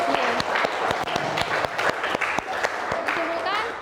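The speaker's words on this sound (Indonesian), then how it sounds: "kita beri aplaus untuk Amza" A small class claps for a student after a presentation in a lesson, with a short burst of sparse, uneven handclaps and a voice speaking over them.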